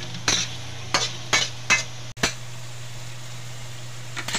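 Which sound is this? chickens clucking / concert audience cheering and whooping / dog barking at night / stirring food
stirring food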